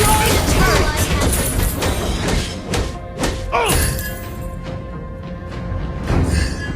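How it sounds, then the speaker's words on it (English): A turret collapsing in the mobile game Mobile Legends: a loud burst of crashing, shattering impacts and thuds over busy game music, with announcer-style voices speaking. "You destroyed a turret."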